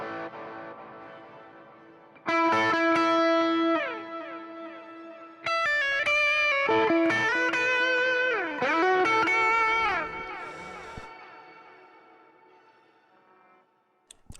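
An electronic instrument plays sustained tones and pitch-bending notes through an echo room reverb effect, loud and close with long decaying tails between phrases.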